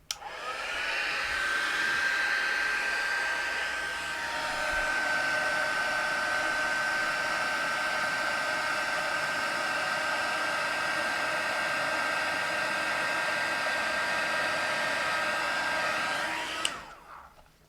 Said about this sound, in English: I'm just going to grab my heat tool and I'm just going to zhuzh this up and set this